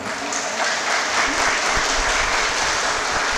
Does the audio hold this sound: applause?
yes